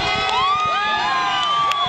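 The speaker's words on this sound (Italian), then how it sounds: "Le grida entusiaste delle persone che accolgono San Giorgio dentro l'oratorio delle suore salesiane." An enthusiastic crowd shouts and cheers loudly as the Saint George procession, carried at a run by its bearers, enters the Salesian sisters' oratory during the Festa di San Giorgio in Modica, with whistles and high children's cries throughout.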